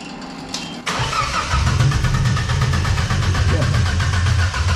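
A car engine running under load as the throttle is pushed, a steady mid-pitched drone with a sharp onset near the start, holding loud and continuous with people talking faintly in the background.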